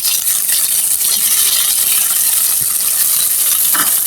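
Taki fish sizzling as it fries lightly in hot oil in a pan, a steady close hiss with faint crackles and pops running evenly throughout.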